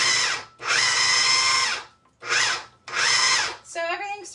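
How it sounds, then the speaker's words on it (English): A food processor pulses a white bean and mushroom dip in four loud motor bursts, each about a second long and separated by short gaps, followed by a brief trailing sound. "So I'm going to pulse just to kind of combine everything."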